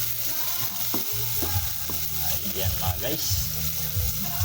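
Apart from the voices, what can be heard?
onion and garlic sautéing in a pan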